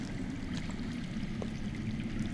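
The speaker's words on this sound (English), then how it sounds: "That's water. I hear water. From underground." Steady rushing of water flowing underground, a continuous low murmur with faint trickles, heard alone without speech at an even level.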